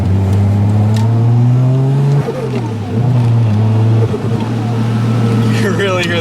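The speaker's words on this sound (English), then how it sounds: "You can really hear that turbo." Manual turbocharged car engine revving loudly up through the gears inside the cabin, its steady drone rising in pitch and dropping at shifts, with a person talking over it.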